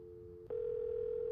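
In a Nancy Drew mystery game, a telephone receiver picks up: a faint hum gives way to a steady, continuous dial tone that carries on alone, close and clear.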